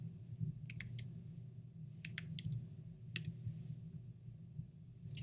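Light clicks come from typing on a computer keyboard, in short uneven bursts of a few keystrokes each over a low, steady room hum.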